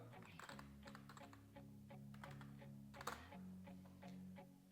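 Rapid keystrokes on a computer keyboard while typing a search for suppliers in Telegram, with close irregular clicks over a steady musical backing throughout.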